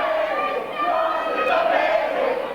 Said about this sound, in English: The crowd not exactly in favor of the new role model, Jason Cross.